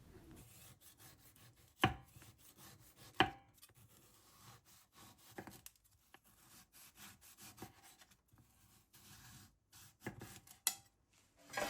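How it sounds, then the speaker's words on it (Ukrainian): A knife slicing persimmon into rounds on a cutting board, giving a few sharp chopping knocks and soft cutting scrapes spaced irregularly, close and quiet. "Далі беремо корольок і також нарізаємо кружечками."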